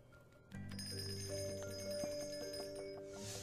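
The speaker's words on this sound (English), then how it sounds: "Bells, bells, bells." Bells ring in a horror video game, a sustained cluster of bright tones beginning abruptly and continuing steadily with a few extra strikes layered on top, heard alone without talk.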